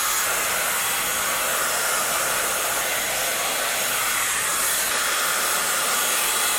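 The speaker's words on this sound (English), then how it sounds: "I'm going to try to dry the roots of my hair as much as possible." Dyson Airwrap blowing hot air to dry the roots of hair, a steady loud breathy whoosh that runs continuously and close up with no talking.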